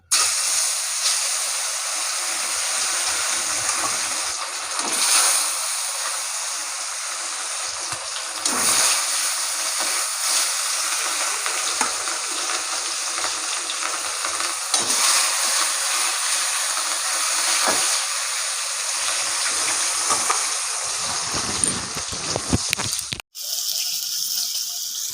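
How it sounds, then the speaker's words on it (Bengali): Fish deep-frying in hot oil, a steady loud sizzling hiss that runs unbroken throughout, close up and alone, with faint clinks and no talk. "মাছগুলো একদম কড়া করে লাল লাল করে ভেজে নিয়েছি"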